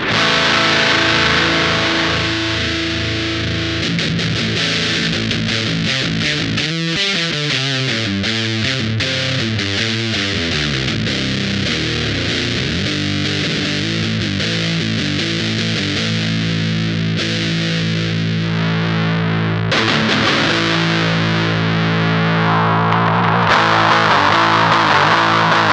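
LBF Ouroboros fuzz pedal played loud and alone through an amp, its distorted guitar notes and chords ringing on while the treble knob sweeps, so the tone shifts from dark and thick to bright and cutting.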